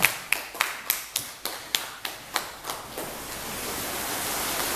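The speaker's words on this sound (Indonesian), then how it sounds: "Ya, kita kasih aplaus untuk Penny." Applause for a presenter at a university teaching session in Kupang: about nine evenly spaced, distinct claps in a steady rhythm, fading into a soft, even background hiss.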